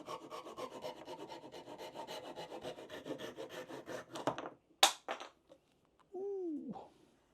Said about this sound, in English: I'm gobsmacked with my sawing there.